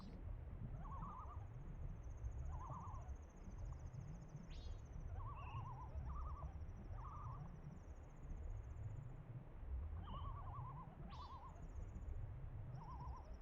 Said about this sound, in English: I feel like this deep underwater, I would not be hearing whatever those bird noises are